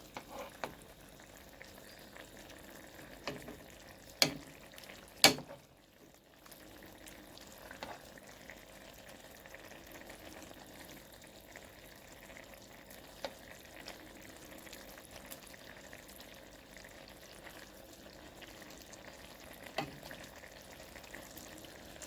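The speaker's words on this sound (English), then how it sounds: "we can leave it for a while and make it simmer down" Jamaican brown stew fish simmers in a pot, a faint, steady bubbling hiss with a few soft clinks and knocks early on, and no voices.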